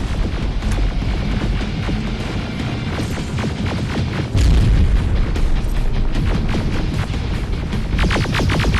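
Rocket explosions boom in Terminator: Resistance Enhanced amid dense combat noise: a loud, continuous rumbling barrage with a heavier blast landing midway.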